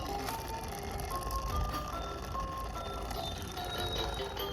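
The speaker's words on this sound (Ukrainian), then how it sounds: "Це музикальна іграшка вона зараз я вам покажу." A small battery-powered musical toy plays a thin, beeping melody, note after note, over a noisy flea market background with hiss and low rumble.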